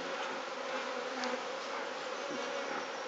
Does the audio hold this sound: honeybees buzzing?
yes